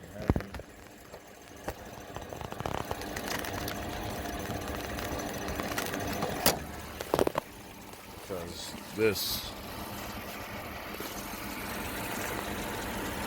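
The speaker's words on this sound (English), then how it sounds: "The engine is running very smooth." A Mercedes-Benz W140 S420 engine idles smoothly with a steady low hum under the open hood, while someone talks over it and a few clicks and handling noises break in.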